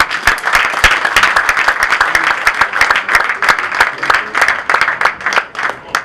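Congregation at a church funeral service breaking into sustained, dense applause, loud and even throughout with many overlapping claps close by.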